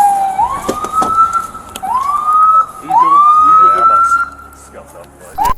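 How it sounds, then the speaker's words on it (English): An ambulance siren wails in repeated rising sweeps close by, loud and insistent, with scattered voices and vehicle noise underneath. "Ambulance is right here."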